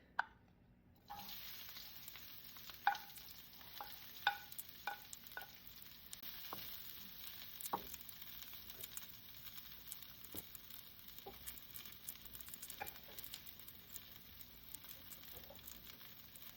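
Garlic frying in a little garlic oil, a steady light sizzle beginning about a second in and carrying on throughout, with soft stirring scrapes and clicks of a utensil against the pan.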